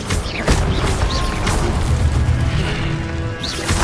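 Incendio fire spell cast in Hogwarts Legacy, a loud, dense roaring burst of flame with crackling hits and whooshes running continuously, with sharp impacts near the start and end.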